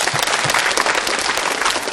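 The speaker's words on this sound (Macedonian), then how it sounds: "Ајде, другари, да им дадеме силен аплауз." An audience of children and adults at a school event claps loudly and steadily, filling the space with continuous dense applause for the whole stretch.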